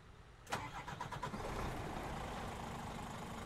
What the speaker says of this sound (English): So we'll give it a start up